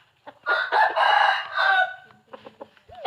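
A rooster crows loudly nearby at a chicken coop in a Thai village, drawn out over several seconds, followed by softer, scattered clucks from the hens.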